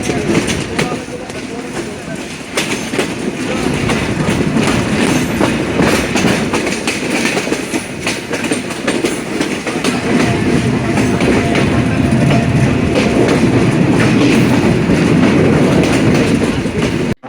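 The Intercity Rupsha Express pulls out of Chuadanga railway station with a steady rumble and clickety-clack of wheels on the rails, loud and close from inside the carriage. The noise is continuous and rises a little as the train gathers speed.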